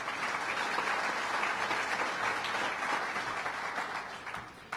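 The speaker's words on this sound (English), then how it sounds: "Let's give them all a round of applause." An audience claps for local government officials at a budget address in Westchester, a continuous, even wash of applause from a large crowd, held at moderate loudness throughout.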